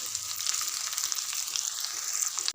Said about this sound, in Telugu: కరివేపాకు బాగా ఫ్రై అయినాక వేంపి పెట్టుకున్న కాకరకాయ ముక్కలు వేసి బాగా కలపాలి